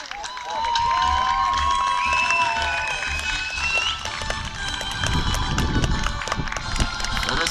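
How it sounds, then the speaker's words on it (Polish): Spectators at the final of a beach soccer cup applaud and cheer outdoors, with a steady crowd roar, shouts and whistles, some nearby thumping and voices mixed in. "Gorące brawa!"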